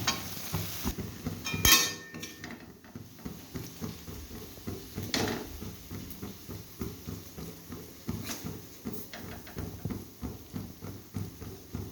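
Okra and potato curry being stirred in a pan, a steady run of soft rhythmic spoon scrapes with light sizzling underneath, fairly quiet and close, no talking.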